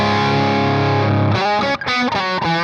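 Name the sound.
electric guitar bridge humbucker pickup through Morgan MV45 amp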